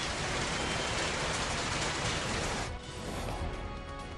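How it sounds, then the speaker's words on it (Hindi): Heavy downpour over the Vijay Chowk area of Delhi, a dense steady hiss of rain that stays loud throughout and thins slightly near the end, with no voices. "विजय चौक इलाके में झमाझम बारिश का दिखा नजारा"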